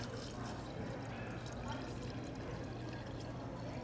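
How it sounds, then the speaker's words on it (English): Liquid pours steadily into a jar of fermenting beet kvass, giving a soft, faint, continuous splashing and trickling with no voices. "I'm just going to pour this over the top and see if we get any floaters."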